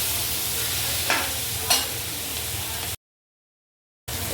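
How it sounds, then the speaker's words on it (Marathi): Vegetables for biryani sizzle steadily in a pan, a continuous close frying hiss with two brief stirring scrapes, then about a second of silence before the sizzle resumes. "पण आधी ह्याला थोडं भाजीला फ्राय होऊन द्यायचं."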